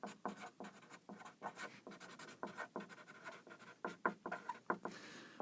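Chalk or marker writing on a board during a physics lecture, a rapid series of close scratching strokes and taps in bursts, with no talking.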